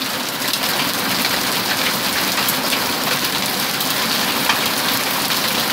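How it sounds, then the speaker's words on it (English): A dense, steady hiss of pea-sized hail pelting surfaces during a storm, loud and continuous throughout with no speech. "Wow, look at it come down. Here comes the hail."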